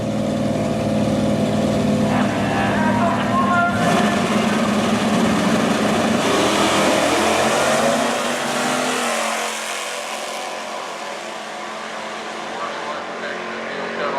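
Drag race cars, a Cuda and a Camaro, roar at Motion Dragway during an alumni race, their loud engines surging steadily and then easing off to a lower drone as they pull away.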